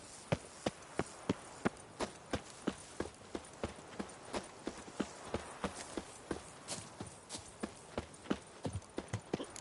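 Horse hooves pulling a cart in The Witcher 3 video game clip-clop in a steady trotting rhythm, crisp individual strikes repeating close by over a faint background.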